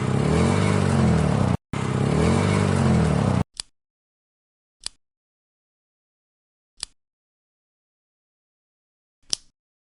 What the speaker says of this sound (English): Add a sound block for a cool engine sound.